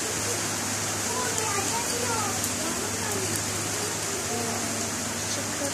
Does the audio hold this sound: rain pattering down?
yes